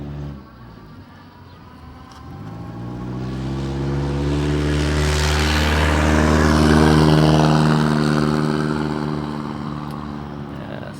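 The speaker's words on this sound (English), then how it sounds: "Some car exhausts are kind of noisy." A loud car exhaust roars in, swells as it passes close by an electric bike rider, and fades away, its rumbling drone rising and falling in pitch.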